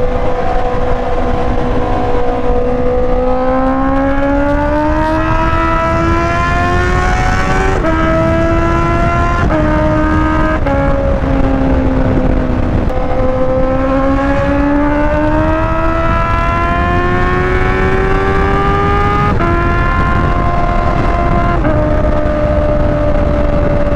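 Honda CB650R motorcycle engine revving and pulling through the gears while riding, a loud steady inline-four drone rising in pitch with each gear then dropping at the shifts, close and continuous with no talking.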